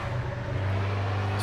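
A race car engine in the Project Motor Racing video game, played on PS5, holds a steady low drone with no speech and a brief lift in pitch right at the end.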